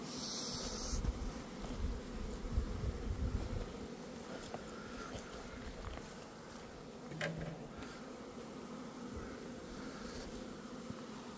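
A steady swarm of honeybees buzzes close by at a hive with hornets around, a dense continuous drone with an occasional louder insect passing near.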